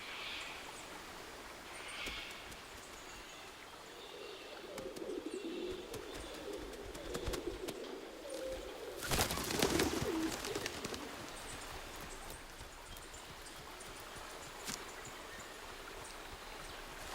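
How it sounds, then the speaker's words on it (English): Pigeons or doves coo softly in a forest regrowing after a wildfire, with a low, steady rush like a stream behind them and a brief louder burst midway. "with forest plants setting seed, the seed-eating birds arrive"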